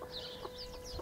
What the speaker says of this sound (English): Now this is my broody chicken.